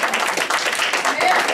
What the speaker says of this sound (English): God bless three claps.